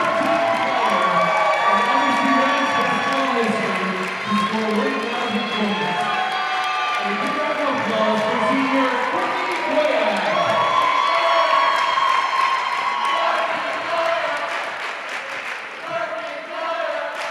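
A basketball crowd at a women's college game between Hood and Lancaster Bible cheers, whoops and applauds loudly and steadily for Courtney Goyak reaching 1,000 career points, with shouting voices throughout that ease slightly toward the end.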